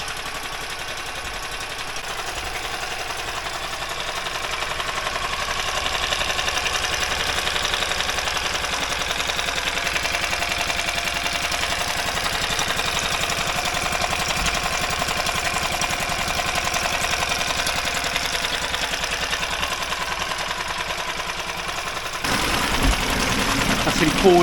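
An outboard boat motor runs steadily in forward gear, a constant mid-pitched engine drone that holds level for about twenty seconds before shifting abruptly near the end.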